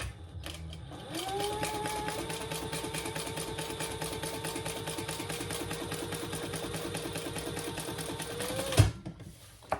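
A sewing machine running a steady burst of fast, even stitching for about eight seconds while back-stitching the seam of a triple sling, close and clear, then stopping with a clunk.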